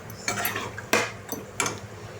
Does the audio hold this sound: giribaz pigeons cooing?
no